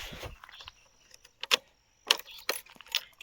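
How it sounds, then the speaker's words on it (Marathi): Keys jangle in short metallic bursts as a key goes into a vehicle's ignition, several sharp clinks spaced over a few seconds, close and fairly quiet. "तर चला आता गाडीला चाबी लावतो."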